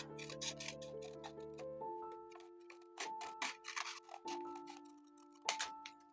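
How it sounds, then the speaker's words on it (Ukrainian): Scissors cut a leaf shape from folded paper in quiet, crisp snips and rasping strokes at close range, over a soft, steady background tone. "Тепер беремо ножиці і вирізаємо нібито половинку листочка."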